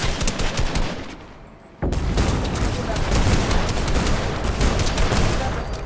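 Rapid, loud Fortnite gunfire and impacts rattle in dense bursts, dropping briefly before a sharp, continuous volley resumes.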